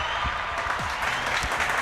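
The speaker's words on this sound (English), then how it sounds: "y'all should start clapping. Come on, clap it up." An audience claps on request, a broad steady wash of applause lasting under two seconds with a few low thumps underneath.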